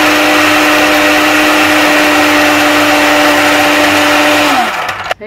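Blender whirring as it purees yogurt with soaked almonds, a loud, steady high-pitched motor whine that holds then winds down and cuts off at the end.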